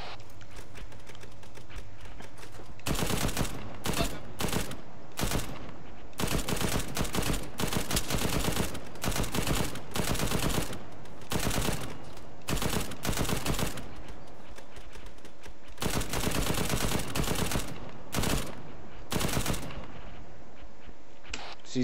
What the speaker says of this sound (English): Get that Mark 19 going,